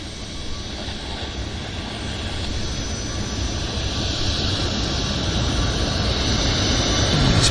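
A WestJet jet airliner bound for Las Vegas begins its takeoff roll at Vancouver airport, a broad steady engine roar that swells gradually louder over several seconds, heard from a distance with no talk.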